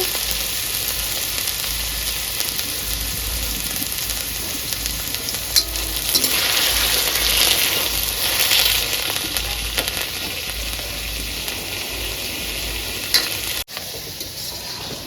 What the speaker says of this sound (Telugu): నల్లేరు పచ్చి పచ్చివాసన పోయేంత వరకు బాగా ఫ్రై చేసుకోవాలంట